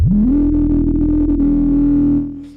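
A Behringer Neutron analog synthesizer plays a sustained, distorted low note whose resonant filter snarls in an MS-20-style growl, loud and steady for about two seconds before fading out.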